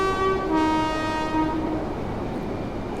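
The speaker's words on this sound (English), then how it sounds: "Horn sounds pretty good, actually." Loud horn of a ScotRail Class 385 electric train on an Edinburgh to Glasgow express, a two-tone blast lasting about a second and a half, then fading into the low rumble of the running train.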